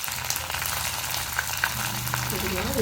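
Garlic, curry leaves and green chilies fry in hot oil for a dry fish curry, giving a steady close sizzle throughout with a few soft clinks of a stirring spoon and no talk.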